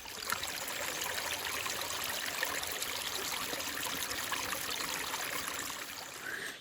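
Stream beside a hiking trail in Cornwall near Bodmin, a soft, continuous trickle and rush of running water with no voices over it.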